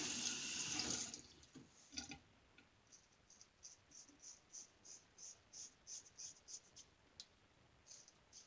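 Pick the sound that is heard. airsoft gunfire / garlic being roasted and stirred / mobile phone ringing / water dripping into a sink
water dripping into a sink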